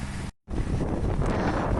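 Wind rushes across an open hilltop near a line of wind turbines, a loud, steady roar buffeting the microphone, broken by one brief dropout to near silence.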